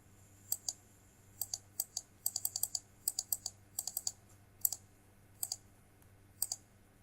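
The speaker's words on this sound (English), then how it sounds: "Let's click on update." A run of sharp mouse clicks, single and in quick doubles and triples, spread irregularly across several seconds at a computer while entering product data, close and fairly quiet over a low steady hum.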